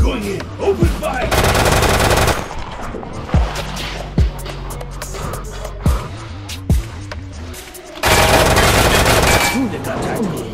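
Heavy game gunfire during a tactical assault: sustained automatic bursts near 1–2 s and again from 8 s, with sharp single shots and impacts scattered between, loud and close, under shouting and other battle noise.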